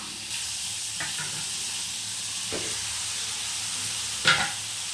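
Steady frying sizzle of prawns cooking in masala for Chettinad prawn gravy, with a few scraping stirs of a spoon in the pan, close and even throughout.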